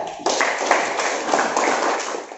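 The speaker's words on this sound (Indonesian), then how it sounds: "Kita berikan dulu dong tepuk tangan karena sudah merefleksikan" Classmates clap together in a school classroom, a dense burst of rapid applause that starts abruptly and continues steadily at close range.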